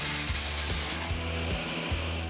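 Drilling assembly holes in cut lower kitchen cabinet panels: a steady machine drone with low humming tones, broken by short woody bursts repeating roughly every half second, close and continuous with no voices.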